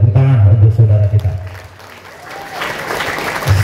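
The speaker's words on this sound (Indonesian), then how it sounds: "Tepuk tangan untuk saudara kita." Applause from a school assembly crowd rises and swells after a voice, mixing with murmuring and voices, moderately loud and brief.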